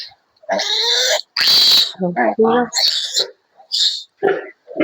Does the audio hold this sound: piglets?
yes